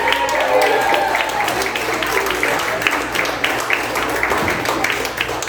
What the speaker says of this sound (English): Big round of applause for your new, amazingly talented headliner